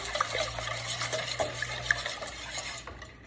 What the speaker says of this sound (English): Whisk that up really well.